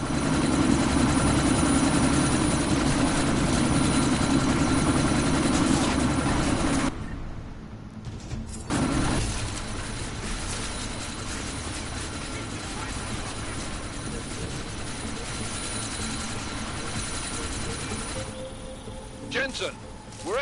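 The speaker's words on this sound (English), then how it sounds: "That chopper's about to take off." A helicopter in the action game Deus Ex idles loudly on the pad before takeoff, a steady dense rotor-and-turbine drone that dips briefly and resumes, with voices talking over it.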